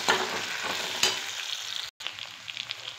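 A spatula stirs red and green chilli sauces through Schezwan veg fried rice in a hot pan, a continuous close sizzle and scrape with a sharp clack near the start and a brief dropout partway through.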